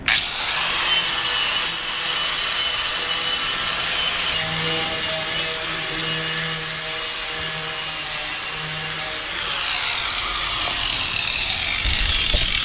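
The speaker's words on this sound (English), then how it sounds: "I'm gonna try to clean it up a little bit with this grinder right here." A handheld grinder scuffs paint from an old EZGO golf cart part. Its loud, steady high-pitched whine holds for the whole stretch, with grinding and scraping as it rubs against the metal.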